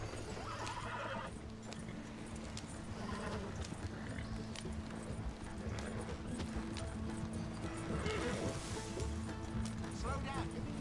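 Rapid drumming hoofbeats of a galloping horse with a whinny in Red Dead Redemption 2, set against busy background sounds and some talking.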